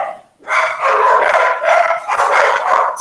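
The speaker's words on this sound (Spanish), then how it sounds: "Perdón el ruido de los perritos" Several small pet dogs bark and yip rapidly and loudly nearby, a busy overlapping stream of sharp barks that hardly lets up, with no talking over it.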